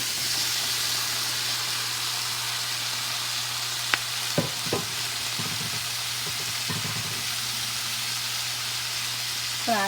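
Cauliflower florets frying in a pan for an aloo gobi potato-cauliflower stir fry: a steady, close hiss and sizzle with a few brief stirring clinks and scrapes, no talking.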